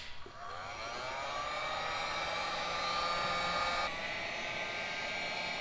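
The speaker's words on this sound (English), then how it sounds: "if you're gonna use a heat gun, make sure they're both all the way up to where you want them" A heat gun shrinks heat-shrink tubing over crimped wires on a 3000GT VR4, giving a steady, loud blowing roar with a whining tone that holds throughout, with no talking.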